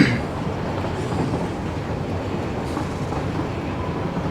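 An overground train passes within a Satisfactory game rail network, a loud, steady rumbling roll of wheels and carriages held at constant level for several seconds with no speech over it.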